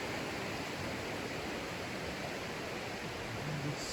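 Steady broadband rush of Deep Creek flowing in the Great Smoky Mountains, continuous and close, with no voices over the water.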